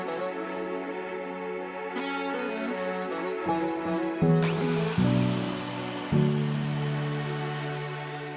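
A power tool cutting MDF shelves whines steadily with shifting pitch, stepping louder and higher partway through as it bites into board, running continuously without talk.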